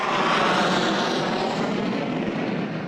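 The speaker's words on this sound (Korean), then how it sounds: "땅에 거의 닿을 듯 내려앉은 전투기 소음은 최저 100데시벨." A fighter jet descends to land on a nearby runway, a loud, continuous broadband roar that holds steady and fades slightly at the end, with no other sounds.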